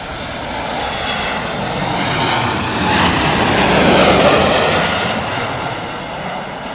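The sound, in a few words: jet airliner engines on landing approach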